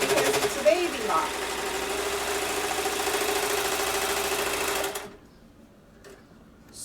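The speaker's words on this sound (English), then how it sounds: "when I sew now, and I get to this very fat part that I made, my stitch should change" A Baby Lock Evolution serger stitches through thick layered fabric with a fast steady whirring chatter, then stops abruptly near the end, leaving quiet room tone.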